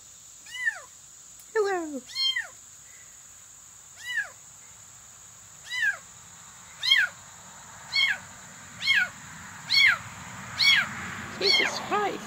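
A cat yowling repeatedly indoors, about a dozen loud drawn-out cries spaced a second or so apart, with a person speaking briefly between the calls.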